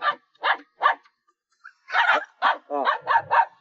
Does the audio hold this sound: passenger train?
no